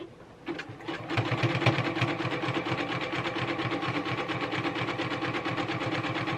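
A sewing machine runs steadily, its needle chattering in a fast even rhythm while joining quilt hexagons edge to edge, starting after a brief pause and continuing close up without talk.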